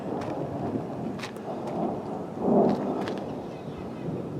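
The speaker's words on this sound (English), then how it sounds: "We get a lot of these storms where you just get high winds and lightning and thunder, and then it doesn't actually rain." Thunder from a dry mountain storm with high winds and lightning but no rain rolls through as low, muffled rumbles, swelling into a louder peak midway before fading, heard outdoors near a parking lot.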